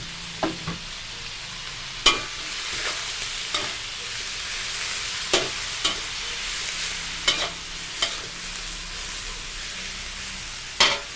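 Vegetables such as napa cabbage and wood ear mushroom are stir-fried in a pan for a Thai mixed vegetable dish. A continuous sizzle carries on throughout, punctuated by a dozen or so crisp spatula clicks at irregular intervals, with no voices.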